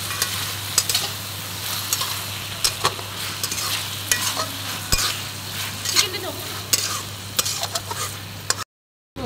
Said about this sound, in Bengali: চিকেন ফ্রাই দেওয়া হচ্ছে